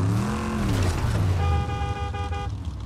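Fortnite car engine revving and running nearby, with a horn-like tonal toot toward the end, loud and continuous without talk.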